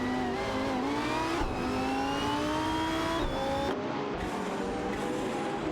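Race car engines from a racing video game with a Radical RXC and Maserati MC12 among the field, several high revving engines droning together with rising and shifting pitches, steady and loud throughout with no gaps.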